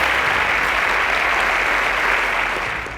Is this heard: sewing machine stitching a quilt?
no